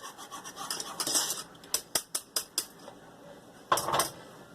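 Bread pudding ingredients being mixed in a bowl, a series of sharp spoon-against-bowl clinks and scrapes, several distinct knocks in a row, close and alone.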